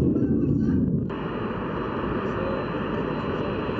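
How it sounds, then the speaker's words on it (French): Steady, loud roar of a military airplane's engine, a broad rumble filling the low range that holds constant throughout, with no talk over it. "À bord de cet avion militaire"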